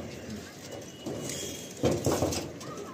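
Compact Kala Sabuj pigeons of an old Gom Thot bloodline coo softly in a loft, with a few flutters and shuffles beneath someone talking.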